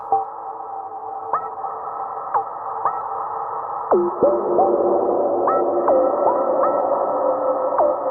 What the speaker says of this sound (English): So very, very big reverb.